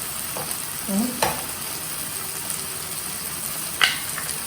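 Potato and paneer sabzi is turned in a hot pan, giving a steady close sizzle with occasional scraping strokes and soft clinks from the spatula.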